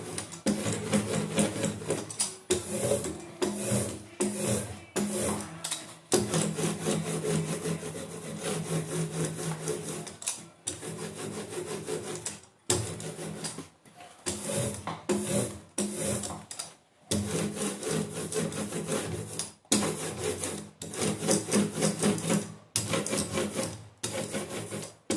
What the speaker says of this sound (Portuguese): Voltar a colocar a tinta aqui na matriz.